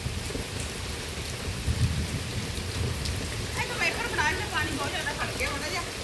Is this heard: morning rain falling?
yes